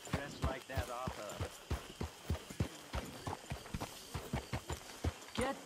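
Horse hooves clip-clop in a steady trotting rhythm in the Red Dead Redemption 2 video game, moderately close, with voices talking over the hoofbeats throughout.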